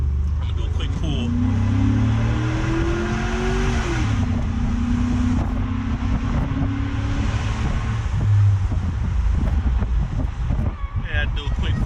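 A Chevy SSR built on a Chevy Trailblazer frame, fitted with a Flowmaster exhaust, pulls up to 40 mph; the engine drones and its pitch rises under wind noise, and someone talks over it.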